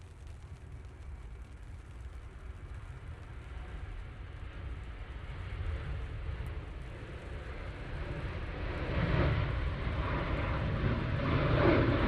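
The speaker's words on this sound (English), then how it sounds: "This will be the Ryanair going off to Madrid." Ryanair airliner departing Manchester Airport for Madrid, a distant low engine rumble that slowly swells louder as the jet spools up and rolls.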